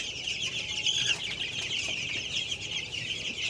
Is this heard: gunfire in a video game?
no